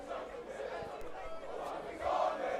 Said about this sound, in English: Wynberg crowd are up at the moment